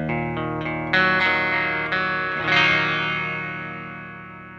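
A Fender Stratocaster on its bridge pickup, played clean through a Marshall DSL-20 amp, rings out a few picked notes and a ringing chord that swell and slowly decay, close and fairly loud with no talking.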